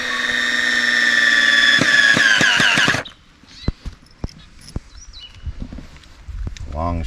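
A power drill drives long screws into the cross braces of an off-grid cabin wall, whining loudly and steadily for about three seconds before stopping, followed by scattered sharp knocks and handling clicks.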